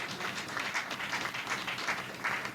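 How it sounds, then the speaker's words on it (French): A church congregation applauds in a steady burst of clapping at moderate distance, filling the room with a continuous rattling patter. "Si tu veux acclamer, acclame bien"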